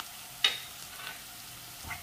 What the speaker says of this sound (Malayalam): മഞ്ഞൾപ്പൊടിയായ എണ്ണയിൽ കിടന്നൊന്ന് മുരിഞ്ഞ് വരണം.